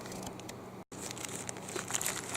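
Crinkling and rustling of a large orange package's plastic wrapping being handled and opened, steady close crackles broken by a brief silent gap, with sharper crisp bursts toward the end.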